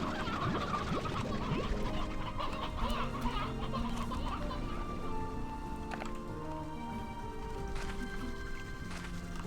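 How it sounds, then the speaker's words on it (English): Chickens clucking in the video game Slime Rancher 2, a steady chorus of fowl sounds layered over game music and ambient tones, moderately loud throughout. "Chickens for you guys."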